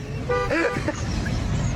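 A car horn honks in a couple of quick toots, followed by continuing road traffic noise underneath.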